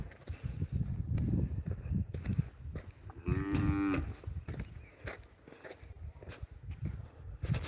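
Cows moo in an outdoor rural area near a graveyard, one clear, drawn-out low call standing out midway over a busy field of footsteps and rustling nearby.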